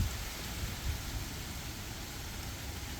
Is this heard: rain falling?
yes